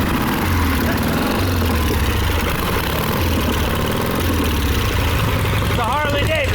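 An old, long-neglected 50-year-old Harley-Davidson motorcycle engine runs loud and close, with a steady, rough low rumble throughout. A brief higher whine rises near the end.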